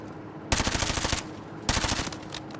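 A full-auto SMG, the Lockman Shroud conversion in Modern Warfare 3, fires two sustained rapid bursts, each lasting about a second, loud and close with no talking over it.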